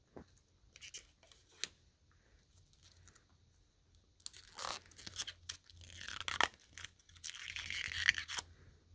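Protective film is peeled off a tiny plastic ice scraper, a series of soft crinkling, crackling rips that grow louder and more continuous toward the end, close and fairly quiet.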